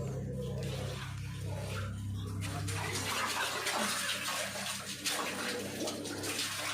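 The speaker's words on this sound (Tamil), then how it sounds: "இந்த தண்ணி வெளியே கிணறுக்கு போகுது" Water at a temple flowing out toward a deep well, a steady rushing, splashing stream with a low hum fading out partway through, continuous and fairly faint.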